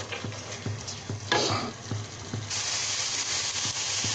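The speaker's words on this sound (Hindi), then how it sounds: "मसाला भी हमारा बहुत अच्छा भुन गया है इसमें अपना तेल भी छोड़ दिया है" Masala spices frying in hot oil for Nargisi kofte, with a steady sizzle under regular scraping stirs of a spoon against the pan, the frying growing louder and denser partway through.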